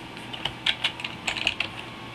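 Quick typing on a computer keyboard, a close run of light, crisp key clicks in uneven bursts over a quiet background.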